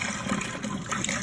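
Dirty water draining by gravity out of a portable washing machine in an RV, a steady close gushing trickle of liquid running continuously for a brief moment, with no talking.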